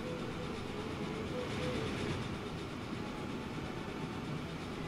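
Train rolling along in the game Transport Fever 2, a steady rumbling rattle of wheels and wagons, moderately loud and continuous with no talk.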